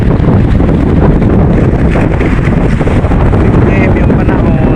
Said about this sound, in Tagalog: Saka mahangin. Mas mahangin.